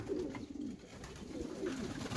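Pigeons coo softly and repeatedly in low rolling calls, close by, with no talking.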